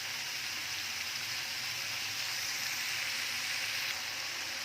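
Bele fish sizzling in oil in a nonstick frying pan, a steady close, loud crackling hiss throughout with no talk.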